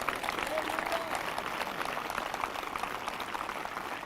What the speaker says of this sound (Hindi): जो जिंदा हैं वो ताली बजाकर धन्यवाद कर रहे हैं।